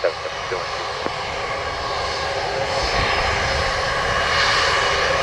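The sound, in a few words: JetBlue jet airplane taking off at Montego Bay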